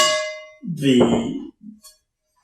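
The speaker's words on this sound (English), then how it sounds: "pan rings like a bell" An old cast iron pan made in Canada, under restoration, rings with a clear bell-like tone that fades out, followed by a few short spoken sounds.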